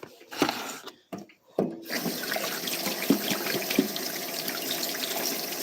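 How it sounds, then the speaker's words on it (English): Tap water runs into a sink during handwashing, a steady splashing stream that starts after a few brief clatters and continues close and fairly loud, with faint handling sounds mixed in. "Alright, go wash my hands."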